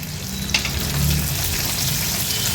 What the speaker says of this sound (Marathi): हे बघा, जिरं पण छान तडतडलंय।